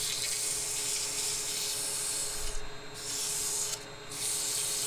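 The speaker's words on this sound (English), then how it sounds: "little interior sanding, get it cleaned up inside" Sandpaper rubs steadily against the inside of a spinning segmented wooden vessel on a lathe, a continuous hissing scratch with a hum beneath it, broken by two brief pauses as the paper lifts off.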